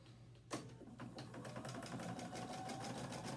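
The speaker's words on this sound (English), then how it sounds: "do the zigzag stitch to finish this seam" A sewing machine stitches a zigzag seam finish along the edge of a fabric seam, starting with a sharp onset and then running as a steady, rapid mechanical chatter of needle strokes, close and fairly loud, with no talking.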